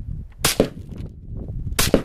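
Two sharp rifle shots fired outdoors while retesting accuracy with a restored rifle, loud and close, spaced over a second apart, with a low background rumble between them.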